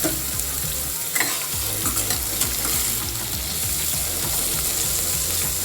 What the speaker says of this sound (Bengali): তেলটা গরম হয়ে গেছে, এই জল ঝরানো উচ্ছেগুলো এর মধ্যে দিয়ে একটু